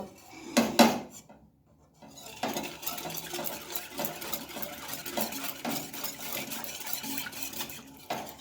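A spoon clinks and scrapes against a bowl while ingredients for a carrot dish are mixed, with two sharp knocks at the start, a brief pause, then steady close rhythmic stirring.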